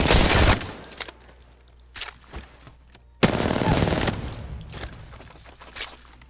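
R9 gunfire from the Apex Legends video game: a loud, close burst of rapid automatic shots opens the clip, a few single shots follow, then a second sustained burst trails off into scattered shots.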